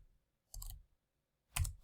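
A computer mouse is clicked twice, each a short, faint double click separated by about a second of near silence, recorded close to the desk.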